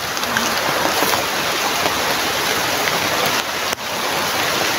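Steady rain pours outdoors with a dense, constant hiss, loud and unbroken for the whole stretch, with one brief thump near the end.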